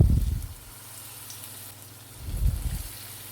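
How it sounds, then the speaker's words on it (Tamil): Wheat flour bondas fry in hot oil over a medium flame with a soft, continuous bubbling hiss. Two low thuds of handling come at the start and near the middle. "இப்போ இதே மாதிரி மீதி இருக்கிற மாவுலையும் நம்ம போண்டா ஃப்ரை பண்ணிக்குவோம்."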